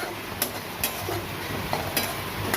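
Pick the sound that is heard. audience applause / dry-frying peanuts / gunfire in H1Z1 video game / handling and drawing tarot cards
dry-frying peanuts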